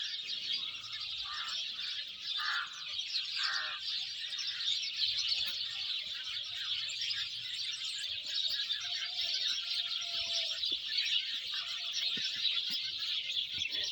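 A dense, continuous chorus of many sparrows chirping at once in a garden, steady and bright, with a few faint background sounds and no talking.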